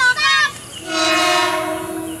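A KRL commuter electric train sounds a loud horn close by, a short first blast followed by a longer sustained tone over the rumble of the passing train.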